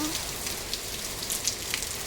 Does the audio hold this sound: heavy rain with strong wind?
yes